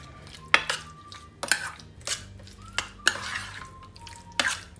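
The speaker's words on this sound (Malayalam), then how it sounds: "നന്നായിട്ട് ചെമ്മീനിൽ പിടിക്കുന്നത് പോലെ മിക്സ് ചെയ്ത് വയ്ക്കുക" Prawns being mixed by hand or spoon with curd and salt marinade in a bowl, giving a series of close, sharp clinks and scrapes at irregular intervals with soft squelchy movement between, no talking.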